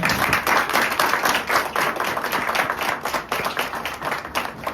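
A congregation at a Passover service claps loudly and close, a busy burst of hands in uneven rhythm that swells and dips over a few seconds with no speech.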